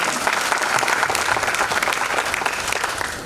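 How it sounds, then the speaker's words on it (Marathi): Loud, steady applause from a large audience at a ceremony for Suresh Yadav, dense continuous clapping throughout with a slight crowd murmur. "त्यांच्यासाठी एकदा जोरदार टाळ्या वाजवूया"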